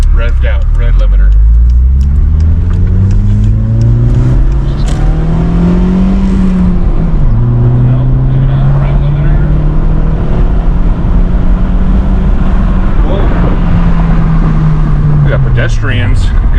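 A Volkswagen Jetta with the 1.8-litre turbo engine revs hard and climbs to the red-line limiter, a loud, close, sustained drone rising and holding in pitch, with voices talking over it from inside the car.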